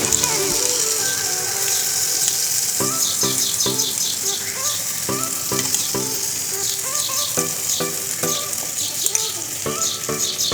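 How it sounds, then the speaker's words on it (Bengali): Boiled lentils go into a hot pan for egg tadka, with a loud sizzle and splash over a busy run of repeated clatters and scraping from the pan. "রান্না করার ডালগুলো এখানে ছেড়ে দিচ্ছি"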